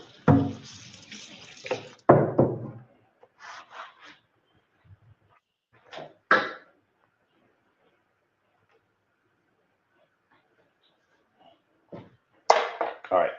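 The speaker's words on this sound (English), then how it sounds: "let me rinse my board off." Tap water runs over a cutting board during taco prep, a broad steady splash for about two seconds, then brief knocks and handling sounds, with another short burst of running water near the end.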